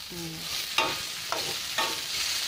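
Small cut potato pieces sizzle steadily in a hot pan, with three sharp scrapes of a spoon stirring them through the frying, close and without talk.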